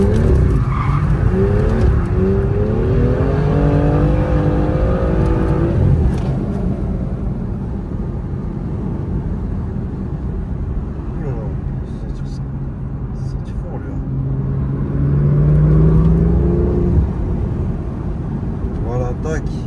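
A car accelerates gently through a corner and up a rise during a driving lesson, with a steady engine drone and rumble and a rising whine later on, heard under ongoing instructor talk.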